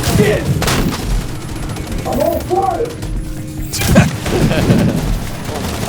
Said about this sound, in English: He's got a minigun. Look at that thing.